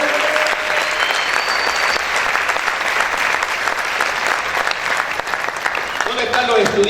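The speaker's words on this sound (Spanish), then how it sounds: "Aplaude fuerte a tu Dios." Loud church congregation applause for God, sustained and dense, with shouts and cheering voices rising above it and a voice breaking through near the end.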